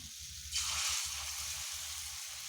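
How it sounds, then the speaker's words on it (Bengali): Pumpkin fritters shallow-frying in a little oil give a steady, close sizzle that swells suddenly about half a second in and then holds as a continuous bright crackle, with a low rumble underneath and no talking. "আমি অনেক বেশি তেলে, ডুবো তেলে ভাজবো না, অল্প তেলেই ভাজবো"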